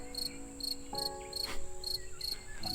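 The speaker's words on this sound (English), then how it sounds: "You hear the crickets?" Crickets chirp in a German forest in regular, evenly spaced pulses, each a short buzzy trill, clear and fairly near over a quiet background with faint tonal hum.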